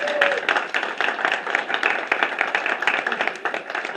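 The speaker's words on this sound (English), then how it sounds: "One more quick round of applause" An audience claps for a band at an open mic night, a steady round of close, crisp applause lasting a few seconds with some chatter mixed in.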